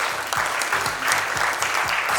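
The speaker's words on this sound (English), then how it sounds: "Another round of applause for Zaki," A conference audience at Osmocon 2022 applauds in a continuous, dense burst of clapping, steady and fairly loud throughout with no voices standing out.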